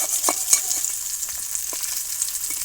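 Fish fries in a pan as it is stirred, producing a soft continuous sizzle with scattered light pops and a few faint scraping taps.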